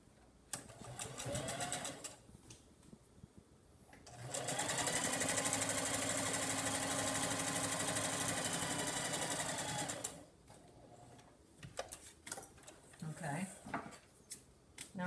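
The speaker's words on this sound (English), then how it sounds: "I'm going to sew the other side the same way" A sewing machine stitching the edge of a cotton fabric surgical mask, its motor running steadily and loudly for about six seconds between quieter handling and rustling of the fabric.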